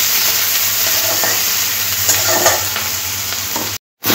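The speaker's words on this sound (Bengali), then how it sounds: "পেঁয়াজটা হালকা করে একটু ভেজে দিতে হবে।" Sliced onions sizzle in hot oil with cumin seeds while a utensil stirs them, a close, steady crackling fry with scraping strokes and a short gap near the end.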